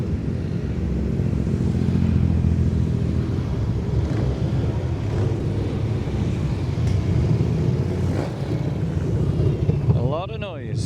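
Many motorcycles rumble together on a charity toy run in Stoke-on-Trent, a dense, continuous low engine roar with a passing rev near the end, steady and loud throughout.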